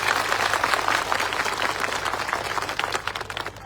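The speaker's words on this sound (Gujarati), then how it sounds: "બધા માટે એકવાર આપણે જોરદાર તાળીઓ પાડી લઈએ" Political rally audience in Vapi breaks into sustained, dense applause, steady and loud throughout, with faint crowd noise beneath and no voice over it.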